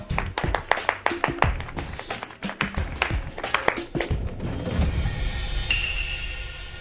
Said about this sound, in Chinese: 你们稀稀拉拉的鼓掌什么意思啊？